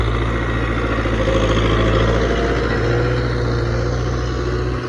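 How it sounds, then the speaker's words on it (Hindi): A tractor ploughing a field: loud, steady engine chugging close by with a constant low hum and slight variations in pitch, no voices. "तकरीबन आधे जरेब को जो है ट्रैक्टर ने हल वगैरह लगा दिए हैं।"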